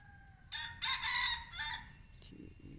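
A wild junglefowl rooster crows once in the forest, a clear multi-part call heard at moderate distance, followed by a couple of soft low clucks, with no talking.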